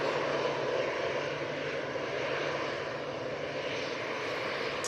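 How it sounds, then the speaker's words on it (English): An EasyJet airliner lines up on runway 23 left at Manchester Airport, its engines giving a steady, continuous broadband roar at moderate distance with no break for the whole stretch. "And that EasyJet. Now coming on to 2-3 left."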